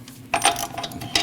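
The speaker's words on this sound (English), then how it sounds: "torque your nut" A wrench torquing the wheel hub nut on a 2014-2023 Jeep Cherokee: a quick burst of close metallic ratcheting clicks, with a final sharp click at the end.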